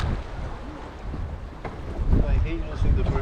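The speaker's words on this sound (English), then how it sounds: "Look at these boats come out of nowhere." Boats on open water during a fishing trip, heard as a rumbling engine and water wash buffeted by heavy wind noise on the microphone, swelling louder toward the end.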